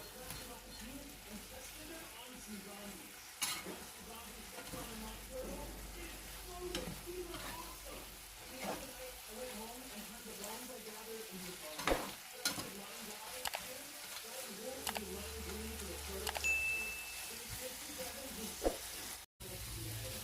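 Anchovy chili sambal cooks down in a pan with a steady low sizzle and frequent stirring scrapes, fairly quiet and close, with a brief pause near the end.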